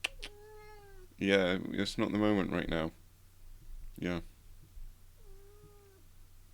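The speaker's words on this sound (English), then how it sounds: "My cat has decided to jump onto the desk." A pet cat meows several times at a desk, rising drawn-out cries near the start and again at the end, with a person speaking briefly in between.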